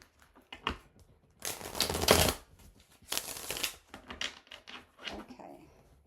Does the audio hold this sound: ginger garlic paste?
no